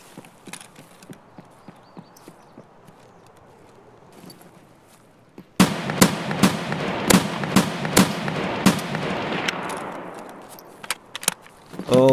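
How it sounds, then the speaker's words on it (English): In Escape from Tarkov, a burst of panicked gunshots cracks out: faint distant pops first, then loud, close, irregular shots with ringing tails, ending in a few more rapid reports. "Oh, those panic shots."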